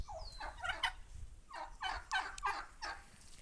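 A domestic turkey on a farm where turkeys are kept for sale gobbles in a few quick rattling bursts, faint and somewhat distant, with no speech over it.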